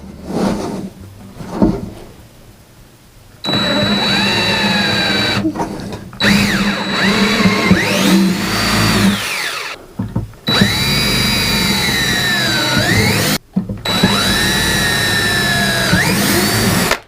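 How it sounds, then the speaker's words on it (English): A power drill bores into a YakAttack BlackPak plastic crate to fit hinges, its loud whining motor running in long sustained bursts separated by brief pauses, pitch dipping and rising as the bit loads up, with no talking. "now I'm going to proceed to drill into the BlackPak"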